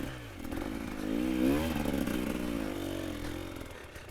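Motorcycle ridden slowly with the clutch slipped, a close engine putter that rises into a brief revving surge around the middle and then settles to a steady low rumble with light clattering.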